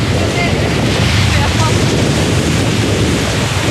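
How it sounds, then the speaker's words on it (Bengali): Sea waves roll in at Mirissa beach in Sri Lanka near a small island, heard as a loud continuous surf wash mixed with heavy wind buffeting the microphone. "দিক থেকে ওয়েভ আসছে।"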